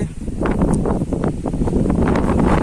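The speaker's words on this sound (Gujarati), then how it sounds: "એકદમ મસ્ત પવન પણ ઠંડો ઠંડો" Cold wind blowing steadily across an outdoor microphone ahead of rain, a continuous low buffeting roar with gusty rises and rustling, loud and close throughout.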